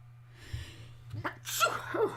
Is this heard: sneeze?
yes